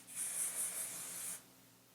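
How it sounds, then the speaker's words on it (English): Aveda light hold hairspray hisses from a can in one sustained burst of about a second, pulsing slightly as it is swept over the hair, then stops, leaving quiet room tone. "So we'll just spray our whole head here."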